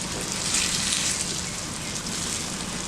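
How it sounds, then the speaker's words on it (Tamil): Beaten egg hits a hot pan for egg rice and sizzles steadily, a loud, continuous hiss close up that holds level throughout, with no speech over it. "இந்த முட்டையை இதில் ஊற்றிடலாம்."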